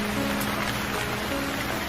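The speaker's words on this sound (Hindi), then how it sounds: "पानी बरसने लगता है" Steady rain falls continuously, an even dense hiss of drops hitting surfaces at close range with no voices.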